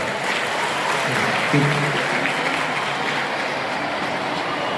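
A Marathi lecture audience applauds a professor as he takes his seat, a dense, steady wash of clapping that holds evenly for about five seconds.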